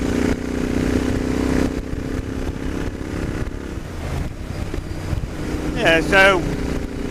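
Royal Enfield Interceptor 650 on a test ride, its engine droning steadily under heavy wind buffeting, with someone speaking briefly over the ride noise.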